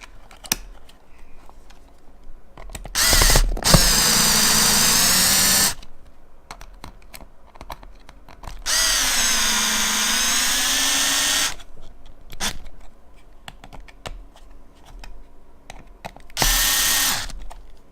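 Power drill driving screws while wiring a smart dimmer for kitchen cabinet lighting, three sustained whirring bursts separated by quiet clicks and handling noise, close and loud, with no talking.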